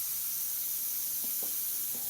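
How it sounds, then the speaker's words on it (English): An airbrush sprays paint softly up close, a steady airy hiss running the whole time with a few faint taps. "get in real close, softly spraying it"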